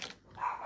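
Excited dogs bark and growl indoors, a brief faint burst of barking at some distance, heard alone without talk.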